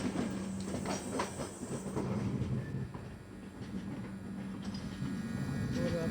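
Kashi Vishwanath Express running on rails near Moradabad: a steady rumbling rattle with rhythmic clickety-clack of wheels over joints, heard from on board, with faint hiss and no clear talk.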